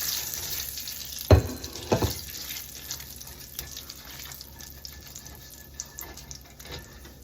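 A spatula scrapes browned bits off a hot pan while lamb chops cook, with a sharp scrape and clatter early on, then steady sizzling and frying, punctuated by occasional soft clinks.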